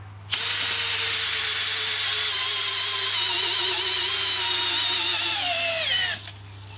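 A Makita 40V cordless drill spins a massive auger flat out in first gear, a loud steady whine with a whirring mechanical drone that holds for about six seconds and then winds down abruptly.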